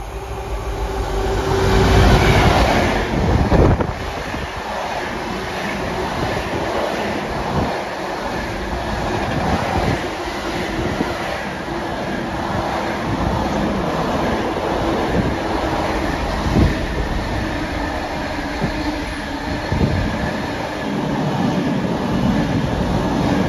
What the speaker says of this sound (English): it's late running freight train